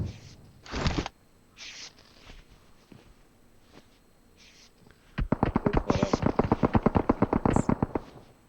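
Rapid gunfire from a video game, a fast burst of sharp repeated shots that starts mid-clip and continues loudly to the end, after a few earlier isolated bangs and quieter clicks.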